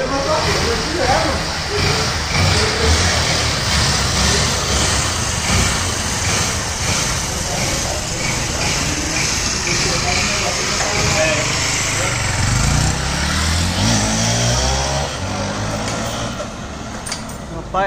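Honda Titan 150 motorcycle bored out to 190cc, its engine revving hard and holding high under acceleration while riding, close and loud, with the tone wavering as the speed changes.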